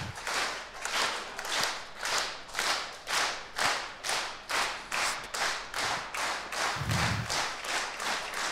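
A wrestling crowd at an NWA Powerrr taping keeps up rhythmic clapping along to a song, brisk and unified beats repeating steadily for several seconds and filling the room.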